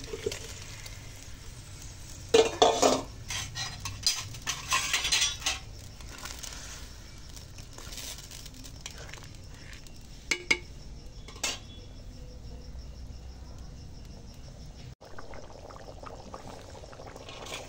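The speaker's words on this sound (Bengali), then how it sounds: "দেখো ঝোল ফুটে গেছে। এবারে ভেজে রাখা আলু দিয়ে দিলাম।" Fried potatoes are tipped into boiling gravy for a potato and pea dum and stirred in the pot: a soft splash and bubbling, followed by scattered clinks of a utensil against the pot, fairly quiet and without talk.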